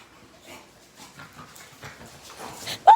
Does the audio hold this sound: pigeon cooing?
no